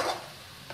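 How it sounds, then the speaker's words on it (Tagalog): Sautéed vegetables being stirred in a hot pan with miswa, giving a short sizzling, scraping burst that fades to a steady low fry, with a brief scrape returning near the end. "Haluin natin guys ng haluin."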